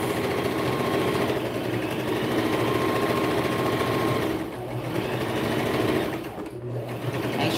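A sewing machine runs a quarter-inch seam on a newborn romper, a fast, even mechanical whir with brief dips where it slows and restarts for backstitching at the seam's end.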